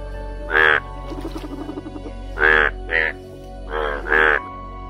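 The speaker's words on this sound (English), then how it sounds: "Here we go, our cute wild animal and sea animal, frog." A cartoon-style frog croaks loudly and close in several separate bursts, with a softer rapid clicking trill between the first calls.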